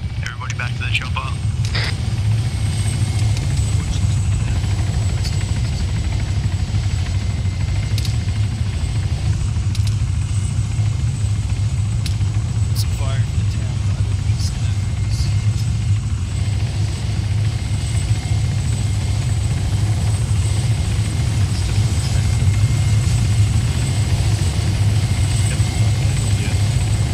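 Constant, loud engine drone of a military helicopter in the Arma 3 video game, with a steady rotor hum running unbroken throughout.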